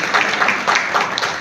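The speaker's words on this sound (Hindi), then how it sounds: "जोरदार तालियां महावीर जी के लिए।" Loud applause from a crowd at a Vishwakarma Jayanti ceremony in honour of Mahavir ji, a dense steady patter of many hands clapping close by, without a break for its full length.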